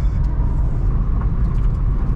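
Nissan automatic car driving along back roads, heard from inside as a continuous low engine and road rumble, steady and fairly loud with no talking.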